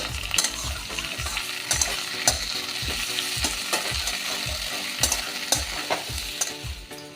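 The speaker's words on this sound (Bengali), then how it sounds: "আদাটা একটু ভালো করে ভেজে নেবো" Ginger paste frying with potato and papaya in a pan for a Bengali papaya and chana dal curry, with a steady sizzle broken by regular spatula scrapes and stirring strokes roughly every half second, close and without talk.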